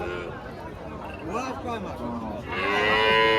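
A cow moos loudly in drawn-out, rising and falling calls at the busy Tepakhola cattle market, set against a steady murmur of crowd chatter and people talking.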